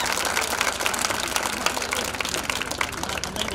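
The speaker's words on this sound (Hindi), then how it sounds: "जिस तरह की प्रस्तुति उस तरह की ताली नहीं," Audience applause at a Namami Gange district convention, a dense, steady wash of many hands clapping close by, continuous and fairly loud without a break.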